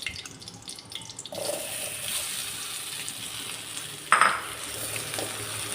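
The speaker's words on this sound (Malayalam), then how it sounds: "ഈ പഴം ഈ നെയ്യിലോട്ടിട്ട് ചെറുതായിട്ടൊന്ന് വഴറ്റിയെടുക്കാം." Banana pieces sautéing in ghee, a steady close sizzle that swells as the fruit hits the pan, with a brief clatter of a utensil partway through and no talking.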